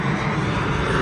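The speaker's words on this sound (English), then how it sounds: "Got an airplane coming here." Steady, loud roar of an airplane passing overhead, a broad continuous rumble with no talking.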